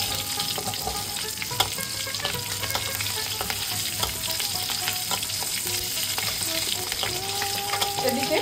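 Bay leaf, dried chilli, cumin seeds and slit green chillies sizzle steadily in hot oil, with scattered pops and crackles and occasional scraping of a spoon in the pan, no voices.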